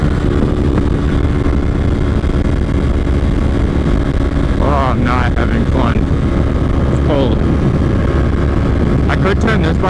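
A Yamaha R3 motorcycle engine runs as a steady, loud drone for the whole stretch, with people talking over it.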